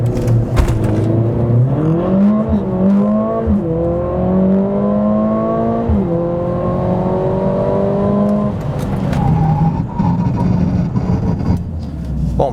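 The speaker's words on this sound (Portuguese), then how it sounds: "Vamos pisar no freio, acelerar e..." Mercedes-AMG CLA 45 launching from a standstill under launch control, its engine roaring loud and close as revs climb through repeated gear shifts, with no talk over it.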